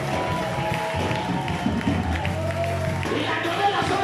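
Church congregation cheering and clapping to acclaim God, a dense, continuous roar of voices and applause filling the hall at steady strength throughout.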